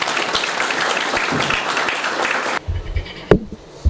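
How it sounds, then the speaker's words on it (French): Dense applause from the audience at an international cooperation signing ceremony, a steady wash of many hands that cuts off abruptly partway through, leaving low room rumble and a single loud knock. "Et c'est sous vos applaudissements"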